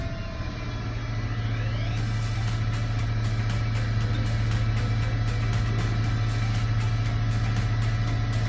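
A 1993 Ford F-150 engine idling steadily nearby, a loud, even low hum and rumble that holds throughout with no changes in revs.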